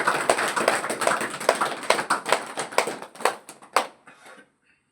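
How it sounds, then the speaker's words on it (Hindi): An audience claps hands in welcome at a spiritual discourse in Nashik, Maharashtra, a run of sharp, fairly close claps in an uneven rhythm that thins out and stops near the end, followed by silence. "इस भूमि का एक बार आप लोग ताली बजा करके हार्दिक अभिनंदन करें"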